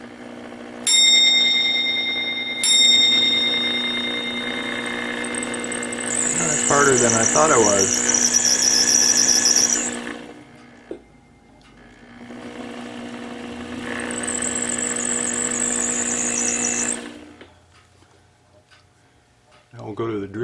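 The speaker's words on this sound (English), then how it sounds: "we're about to just center drill this to get the hole started just perfectly" A lathe hums steadily while a center drill starts a hole in a clock part, cutting with high whining squeals in two long stretches; someone speaks briefly near the end.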